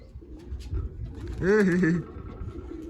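A domestic pigeon gives one clear, close coo lasting about half a second, with low rustling and faint background noise around it.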